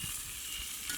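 Chopped tomatoes sizzling and frying in a pan while cooking fish biryani, a steady, hissing crackle heard close up with no talking.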